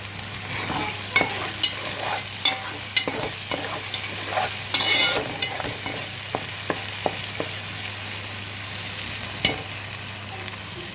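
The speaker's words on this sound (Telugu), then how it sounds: "చక్కగా మసాలా ఫ్రై అవుతుంది ఫ్రెండ్స్" Masala for chicken curry fries in a pan under a continuous sizzle, with repeated spoon scrapes and taps as it is stirred, close and steady throughout.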